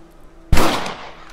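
A single sharp rifle shot from a Western-style video game, a loud close crack with a short fading tail, alone without talk.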